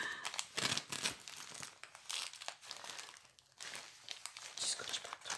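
Parcel packaging ripped open by hand, with repeated close crinkling and tearing of paper in irregular bursts, fairly quiet, with no talk.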